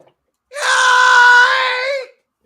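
A single loud, sustained scream, about one and a half seconds long, rises and holds steady before cutting off. It is a human voice imitating a Star Wars TIE fighter and is heard alone.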